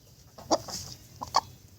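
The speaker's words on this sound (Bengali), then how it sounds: "তো এই মুরগিগুলো দেখতে পাচ্ছেন কত সুন্দর দেশি মুরগিগুলো" Native Deshi hens on a farm give a few short, sharp clucks, two brief bursts close by over faint background noise.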